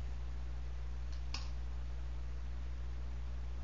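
A single soft computer mouse click sounds once, faint and brief, over a steady low electrical hum in a quiet room.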